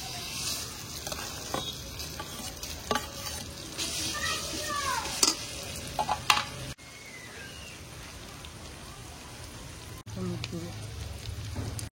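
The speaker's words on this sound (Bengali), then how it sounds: "রসুন পেঁয়াজ আর এখানে বেটে রাখা জিকার বাকলাটা এখন তেলে দিয়ে দেবো।" A paste of garlic, onion and ground ridge gourd peel fries in oil and is stirred, making a steady crackling sizzle with scattered pops and utensil scrapes. The sizzle softens partway through.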